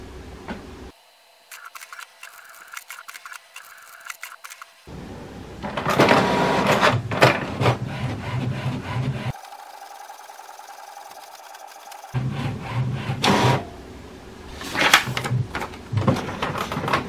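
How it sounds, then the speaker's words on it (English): An HP Smart Tank 585 inkjet printer prints a page, with bursts of mechanical whirring and rhythmic print-head shuttling, separated by quieter pauses and short feed noises, close and clear with no talking. "So this is the first printout from your HP SmartTank 585 printer."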